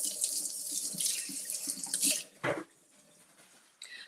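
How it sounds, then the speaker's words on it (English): A quarter-cup measuring cup, previously used for oil, rinsed under a running kitchen tap: a steady rush of water with clinks from the cup, then the flow stops, leaving a few faint drips. "I used it for oil, so let me rinse it and dry it really well."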